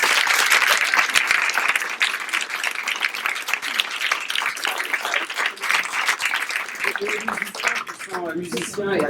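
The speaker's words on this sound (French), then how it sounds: "donc on l'applaudit bien fort." A theatre audience in Paris gives a hearty round of applause for their drama teacher and director, sustained dense clapping that tapers off near the end as a voice begins speaking.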